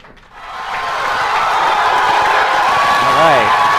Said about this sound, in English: So even if you see a very small effect, please applaud.